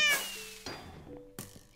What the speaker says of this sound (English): Someone is meowing